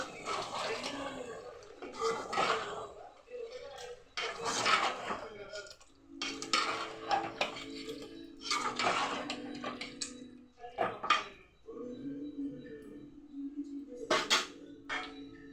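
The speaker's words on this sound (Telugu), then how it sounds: "తర్వాత కప్పు పెరుగు వేసుకుంటున్నాను నేను. ఇలా కలిపేసుకొని" Curd stirred into a cooking mixture in a metal pot, the spoon scraping and clinking against the sides in repeated bursts of stirring with short pauses between them.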